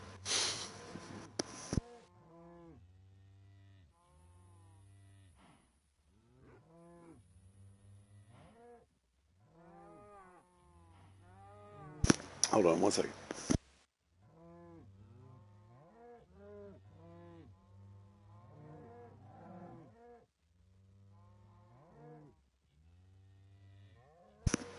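Cows in the Minecraft video game moo repeatedly, with short bovine calls spaced through the stretch, some overlapping, over quiet background and a couple of brief loud noise bursts; someone speaks briefly.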